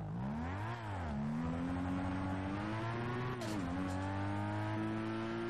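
A Lexus LC 500 engine revs in GTA, a rear-wheel-drive sports car roaring with rising and falling pitch and a continuous loud growl, with a short dip near the start and a sharp shift around the middle.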